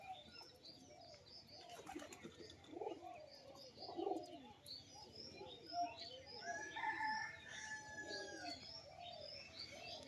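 Pigeons coo repeatedly nearby, soft throaty calls overlapping in a steady rhythm, with occasional chirps and a brief flutter of wings.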